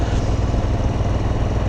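An Alpha moped's small engine runs steadily at idle, a loud continuous close-up drone with no talking over it.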